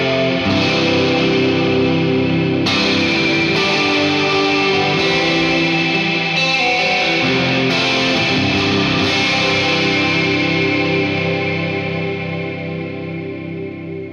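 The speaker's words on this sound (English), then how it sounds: "Here's the RV-5 modulation reverb with some bigger chords." Big electric guitar chords ring through a Boss RV-5 digital reverb pedal on its modulate setting. A dense, shimmering wash swells and sustains with each new strum, and there is no talking.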